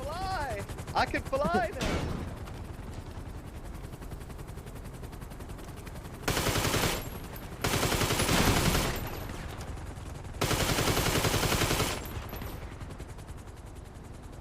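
Bursts of automatic gunfire in a video game, several loud sustained volleys in the second half, with someone talking over the action.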